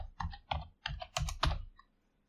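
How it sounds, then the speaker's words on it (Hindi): Rapid bursts of keystrokes on a computer keyboard as a mobile number is entered, five or six short clustered clicks fairly close and clear, then stopping into quiet. "यहाँ पर अपना मोबाइल नंबर टाइप करें, जैसे कि मैं टाइप कर रहा हूँ।"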